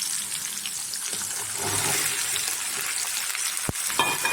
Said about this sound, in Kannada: ಇದು ಎಲ್ಲ ಚೆನ್ನಾಗಿ ಎಣ್ಣೆಯಲ್ಲಿ ಬಾಡಿಸ್ಬೇಕು